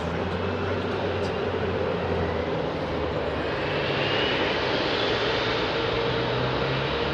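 A jet airliner roars on departure from Heathrow at night, a loud, continuous, broadband engine rumble that holds steady and close throughout, with faint voices beneath.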